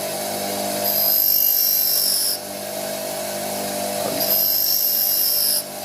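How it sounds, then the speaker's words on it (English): A twist drill bit is ground on a bench grinder in two steady bursts, a loud high whine with rasping friction, separated by a brief pause as the bit is repositioned. "So let's grind this off now and make a new drill."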